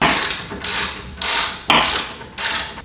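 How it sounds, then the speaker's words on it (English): A ratchet with a 19mm socket works the caliper mount bolts on a 2013-2020 Nissan Pathfinder rear brake, giving five loud, close bursts of rapid pawl clicking with short pauses between strokes. "So we need a 19mm socket. We're going to go ahead and remove these two bolts"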